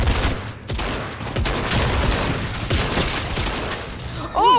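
Gunfire crackles from a Fortnite match in dense rapid bursts that run almost continuously at close range, with a player's voice coming in briefly at the end.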